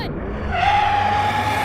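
A 3,000 hp SUV and a Ferrari SF90 launch off the line in a drag race: tires squeal and skid loudly and close, then a rising engine whine takes over and holds steady.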